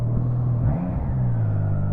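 Triumph Trident 660 motorcycle, nearly new with five miles on it, idling on a cold start around 1500 RPM; a steady, close, low engine hum with a slight rise partway through, no talking.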